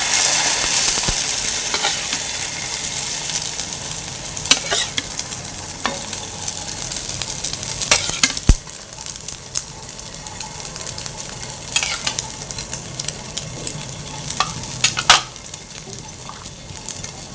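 Egg-soaked bread fries on a hot pan as French toast, producing a steady sizzle with scattered sharp pops and spatula taps, fairly loud and close throughout.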